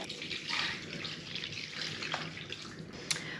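About a cup of water is poured into a Dutch oven holding lard for rendering pork fat, a close, steady splashing trickle with a few sharper drips and clinks, no voices present.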